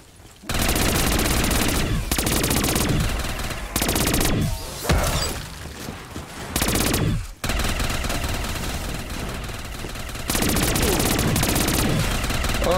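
Video game gunfire roars in long, loud, sustained bursts of rapid automatic shots, broken by a few short pauses, with no talk over it.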